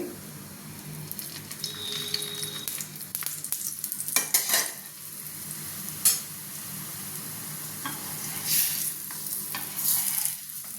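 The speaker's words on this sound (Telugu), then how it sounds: "ఈ చపాతీని మనము పెనం వేడెక్కిన తర్వాత చుట్టూ ఆయిల్ వేయాలి" Chapati frying in oil on a hot flat pan gives a steady soft sizzle with occasional scraping and clinks of a utensil as it is turned, close and moderate in level.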